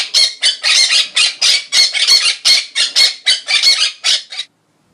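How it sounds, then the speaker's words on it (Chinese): A parrot gives a loud, close series of about fifteen harsh squawks in a fast, even rhythm, with no other sound around them, ending in a brief pause. "鹦鹉"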